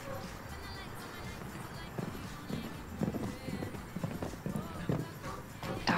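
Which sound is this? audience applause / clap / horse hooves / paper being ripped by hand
horse hooves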